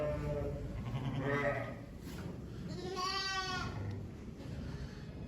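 Several sheep and newborn lambs, a few days old, bleat close by, overlapping calls rising and falling, with a person talking in the background.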